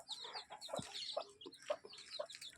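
A mother hen clucks repeatedly among her three-day-old chicks, with a steady string of high, close chick peeps layered over her low, rhythmic clucks in the evening.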